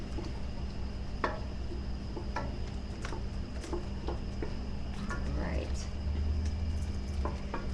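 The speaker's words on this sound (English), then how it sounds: "I'm just stirring away" A spoon stirring berries, pectin and butter in a pot for preserving, with soft repeated scraping and tapping against the pot at an uneven rhythm over a steady background hum.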